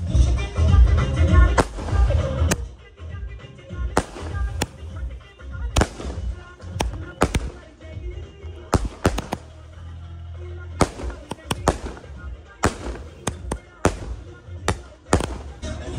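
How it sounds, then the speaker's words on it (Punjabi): Firecrackers set off outdoors during a Punjabi wedding celebration: a loud rapid volley at first, then sharp separate bangs and crackling bursts at irregular intervals, with voices in between. "ਹੁਣ ਮੁੰਡੇ ਕਹਿੰਦੇ ਪਟਾਕੇ ਚਲਾਉਣੇ"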